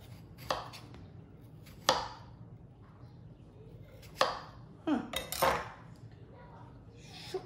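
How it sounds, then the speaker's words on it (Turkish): A knife chops potatoes, cut neither too thick nor too thin, for an iftar meal. About half a dozen sharp, spaced chops land irregularly against a quiet kitchen background, with faint clinks between them. "Bütün patateslerimi bu şekilde doğrayacağım."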